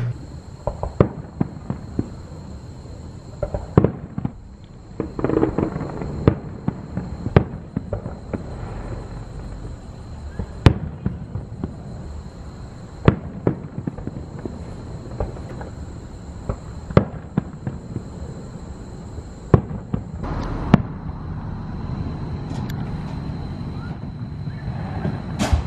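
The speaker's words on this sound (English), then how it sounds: "we live pretty close to the park, so maybe we can see the fireworks" Fireworks set off in a nearby park, heard from home as scattered sharp bangs and pops over about 25 seconds, faint and distant against a steady background hum.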